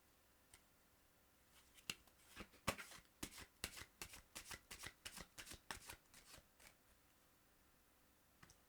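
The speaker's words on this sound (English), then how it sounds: "it's no longer at the bottom of the deck because I'm shuffling" A deck of tarot cards being riffle-shuffled up close, a quick burst of crisp flutters building into a steady run before trailing off, with no talking.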